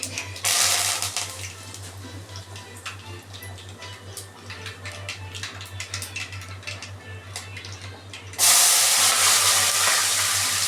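Mustard seeds and curry leaves hitting hot oil, a dense crackling sizzle with rapid tick-like pops over a low hum, flaring to a loud, bright hiss near the end.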